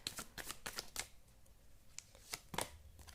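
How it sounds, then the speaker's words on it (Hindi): Tarot cards are shuffled in a quick series of crisp riffling bursts, a rapid cluster and then a few more after a brief pause, quiet and close with no speech. "पहले आज मैं शफल कर करके ही लूँगी कार्ड्स।"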